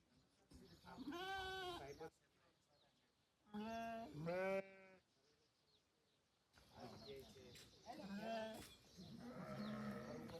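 Young buffalo calves call out in loud, drawn-out moos and bleating cries during vaccination at a farm, several calls in bursts separated by quieter pauses with background movement.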